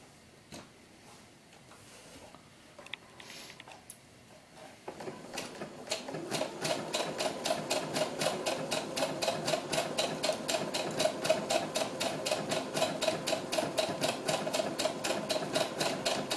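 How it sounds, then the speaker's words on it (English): An overlock machine serges a seam on a doll's historical ball gown. A few quiet handling taps come first, then a fast, even run of loud mechanical stitching continues to the end. "I'm going to overlock this all the way to the sleeve."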